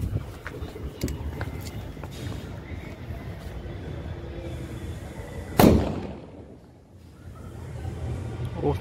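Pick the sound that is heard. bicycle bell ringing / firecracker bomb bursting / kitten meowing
firecracker bomb bursting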